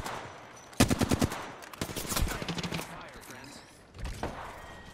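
Bursts of automatic gunfire in the video game Apex Legends, several rapid volleys of shots at mid distance, with a gamer's speech woven between them.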